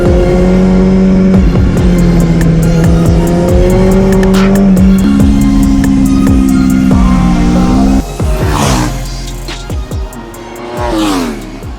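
Racing motorcycles lapping a circuit during a track-day session, engines revving and shifting through gears with changing pitch, loud and close for most of the stretch, then passes fading and swelling toward the end.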